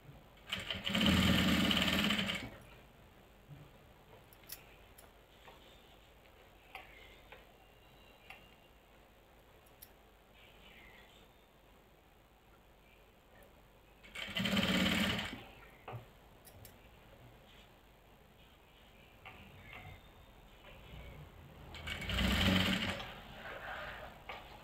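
A sewing machine stitches a garment neckline in three separate loud bursts of whirring, at the start, the middle and the end, with near-silence and faint ticks between them.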